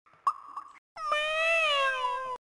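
Rosa the cat meows in the Fireman Sam PC game: a short clipped squeak and plop first, then after a brief pause one long, clear, close meow that bends in pitch and stops abruptly.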